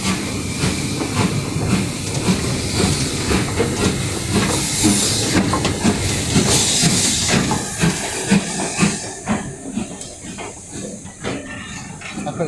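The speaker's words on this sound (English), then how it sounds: "It's not very often I see a steam train these days" A steam train passes a level crossing at Ramsbottom, its loud rumble and hiss filling the clip with rapid clickety-clack wheel rhythm and bursts of steam, continuous and fairly close, with no voices.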